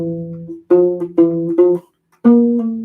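Plucked U-Bass chords ring out close and clear, a held chord followed by three short repeated strums and a final sustained chord after a brief pause, with no voices over the playing.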